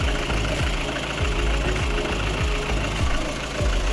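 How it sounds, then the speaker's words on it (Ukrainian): A warmed-up VAZ 2109 engine running on gas idles steadily with a rhythmic piston-knock pulse, close and continuous with no voices. "Чути перестук поршньової."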